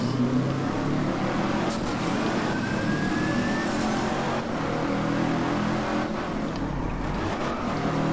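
The Wombat Typhoon, a seven-gear car with nitrous in DriveClub, roars steadily as it accelerates, its engine note rising through the gears in one continuous, loud drone without a break.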